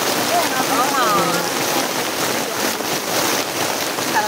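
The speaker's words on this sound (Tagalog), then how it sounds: "Sobrang lakas talaga ng ulan to." Heavy rain pours down in a loud, steady, continuous broadband roar, with a few faint whistling tones briefly rising above it.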